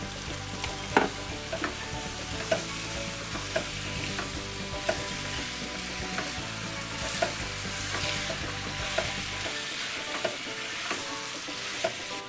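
About 200 grams of lightly salted chicken cooks uncovered in an open pan for a chicken varattiyathu, a constant bubbling sizzle with scattered small pops and ticks, close and even, with no speech.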